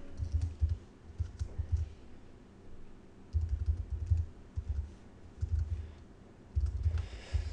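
Close, steady keyboard typing while writing code, soft clicks in several bursts separated by short pauses, no talking.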